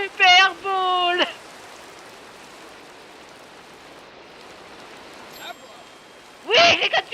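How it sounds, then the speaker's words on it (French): Steady rain falls in the Pixelmon Minecraft game, an even hiss running throughout, briefly interrupted by short bursts of game sound effects at the start and end. "Par contre, ça m'énerve cette pluie"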